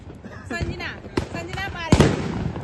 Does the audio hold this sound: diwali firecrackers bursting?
yes